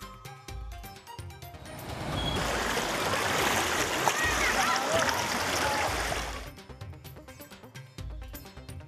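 Floodwater rushing steadily through flooded residential areas after days of heavy rain in Bihar, a broad loud wash in the middle of the clip between stretches of a news voice.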